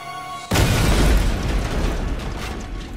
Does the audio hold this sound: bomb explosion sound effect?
yes